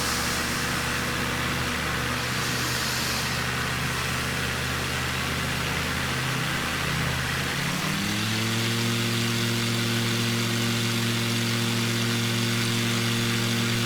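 Aircraft engine droning steadily in flight along the Peenemünde coast, a continuous loud hum whose pitch shifts and settles about halfway through, with no talk.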